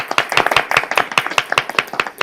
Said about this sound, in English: should we clap for Dylan too?